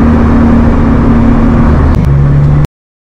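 Engine of a 370bhp Citroen Saxo VTS Turbo with a Satchell equal length drive shaft on a test drive, a loud steady drone with a pitch shift near the end before cutting off abruptly.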